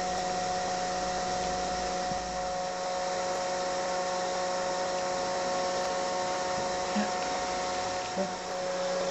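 A vacuum pump runs steadily during resin vacuum bagging of a composite layup, holding a constant mechanical hum with a faint high whine, close and unbroken throughout with no talk.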